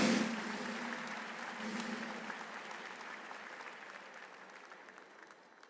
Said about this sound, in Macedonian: Уште еден аплауз за нашите прекрасни колеги.